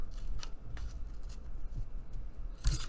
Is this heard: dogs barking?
no